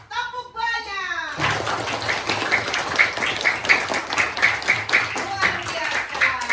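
Schoolchildren in a classroom play a group clapping game, with rhythmic massed clapping and lively young voices that start after a brief spoken opening and carry on steadily to the end.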